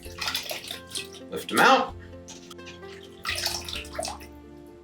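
Black trumpet mushrooms are swished and lifted out of a basin of water for a final wash, with splashing and dripping in bursts while a person talks close by.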